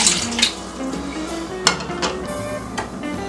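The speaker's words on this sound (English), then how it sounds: "we're going to add water, 1 cup of warm water" Warm water is poured into a mixing bowl for brioche bun dough, giving a short splashing trickle with light clinks of the bowl, close and fairly quiet.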